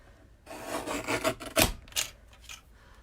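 A small paper trimmer slices a thin strip off a sheet of paper with a short rasping cut and a sharp scrape near the end, recorded up close and with no talking.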